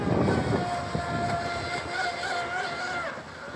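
Electric RC boat with a 730kv 4090 motor running on 10s, taking off at full speed, a loud close whine that rises in pitch over steady water and hull rush.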